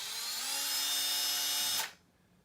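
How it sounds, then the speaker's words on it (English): A power drill whines loudly and steadily as it bores through a floating-shelf bracket into a wall, then cuts off abruptly near the end, leaving quiet. "and then you'll want to drill through"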